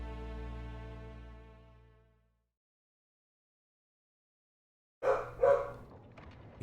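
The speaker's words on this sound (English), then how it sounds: "I hear barking." Dog barking in a scene from the game The Great Ace Attorney Adventures set in London, two sharp close barks following a sustained tonal note that fades into silence.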